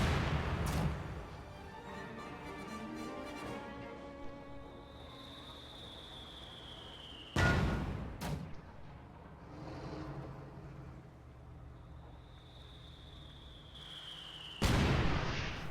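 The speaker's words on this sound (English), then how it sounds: "Mortar bombarding in this area." Mortar bombardment in a strategy video game: about four loud, sharp blasts land at uneven intervals, separated by quieter stretches carrying a thin rising whistle.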